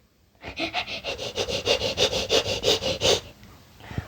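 Rapid, rhythmic sniffing, about fourteen quick sniffs in a steady run, close and clear, then a brief quiet pause.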